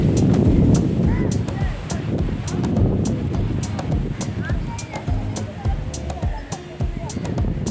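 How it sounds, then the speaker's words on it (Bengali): Strong gusts buffet the microphone beside a lakeside path in a nature park, with rumbling low roars, a few sharp clicks and a voice talking intermittently. "তো এত হাওয়া দিচ্ছে"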